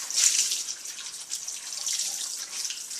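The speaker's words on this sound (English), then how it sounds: "So rinse the cloth" Tap water runs steadily into a kitchen sink as a cleaning cloth is rinsed beneath it, a continuous bright hiss of splashing water lasting throughout with no talk.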